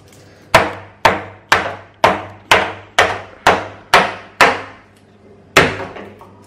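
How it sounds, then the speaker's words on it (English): A small hammer strikes ice cubes sealed in a plastic bag, landing about ten sharp, loud cracking blows in a steady rhythm with a brief pause before the last, close by and with no talk. "A real man knows how to break some proper ice."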